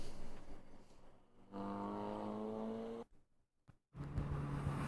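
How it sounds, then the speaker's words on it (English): A Mazda Miata race car lapping Laguna Seca raceway, its engine note rising as it passes close by, then dropping away abruptly before another engine drone picks up. "But making good work around the racetrack in that Miata."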